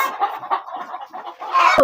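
Chickens on a small poultry farm cluck continuously and fairly loudly for about two seconds, with several overlapping calls and a louder burst near the end.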